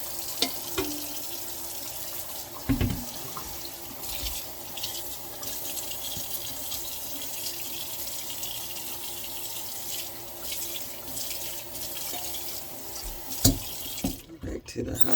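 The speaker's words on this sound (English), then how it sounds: "Back to the hot water so I can make sure I rinse this off good." Hot water runs from a sink tap while dandelion greens are rinsed, a steady close splashing wash that continues throughout with a few clunks and handling knocks.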